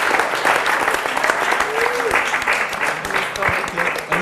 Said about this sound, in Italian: chiederei un applauso